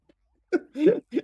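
A short, sharp sneeze close up, a quick intake followed by an explosive burst and a brief trailing sound.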